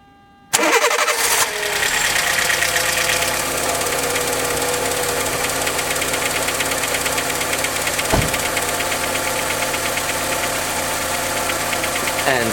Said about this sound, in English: we do that by starting out the engine